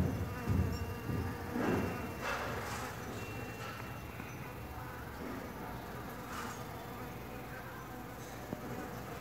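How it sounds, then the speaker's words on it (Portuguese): Bees buzz around Catasetum orchid flowers, a continuous soft drone with a few louder passes close by, set against steady outdoor background noise. "mais alguns vídeos de abelhas visitando o Catacetum"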